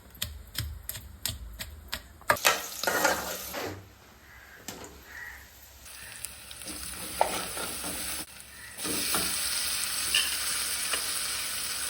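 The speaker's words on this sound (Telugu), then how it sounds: "finally chicken in the oil" Chicken pieces frying in hot oil for a grandmother-style home dish, opening with a few sharp clacks, then a loud steady sizzle with stirring scrapes that swells louder near the end.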